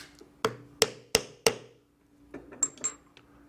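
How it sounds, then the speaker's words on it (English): Metal rivet set into a steampunk-style corset with a rivet setter and hammer: four sharp, loud strikes in steady rhythm, followed by a few lighter taps and clinks. "with the rivet setter, we will set the rivet"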